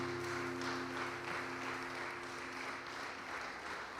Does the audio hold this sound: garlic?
no